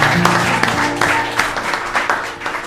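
Studio audience applauding guest Harry Sparks on a political talk show, a dense burst of close clapping with a few sharper individual claps, tapering slightly toward the end.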